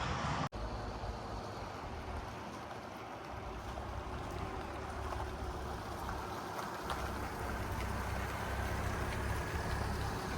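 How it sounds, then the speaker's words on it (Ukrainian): Steady broad road and engine rumble from inside a Renault Koleos 2.0 dCi 4WD with automatic gearbox on a short test drive, one brief knock near the start, then constant cabin noise with no speech. "а зараз зробимо невеличкий тест-драйв"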